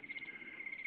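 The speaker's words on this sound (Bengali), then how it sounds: "ঝিঝি পোকার ডাক শোনা যাচ্ছে শুধু।" Crickets chirping in the dark of night near a cremation ground, a steady high-pitched pulsing trill, faint and continuous with no voices.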